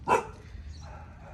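A single short dog bark up close, followed by a low background rumble.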